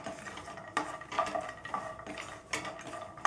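Dry fruits stirred and frying in ghee in a pan for fool makhana laddu, with repeated metallic scrapes and clinks of a spoon against the pan at a steady pace, close and fairly quiet.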